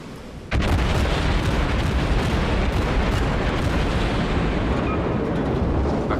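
Sustained heavy naval gunfire from a Chester cruiser in the World of Warships video game, a sudden loud onset of booming broadband blasts that rumble on continuously without pause.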